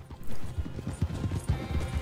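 Horses galloping in Red Dead Redemption 2, hoofbeats thudding in a quick uneven rhythm at moderate volume with no voices over them.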